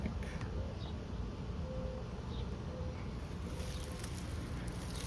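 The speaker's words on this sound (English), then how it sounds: "It's got a ZPS compressor. Copeland ZPS K7, I think." A Copeland ZPS two-stage HVAC compressor runs outdoors as a steady, dense broadband hum and drone, continuous and moderately loud, with faint wind-like hiss and no voices.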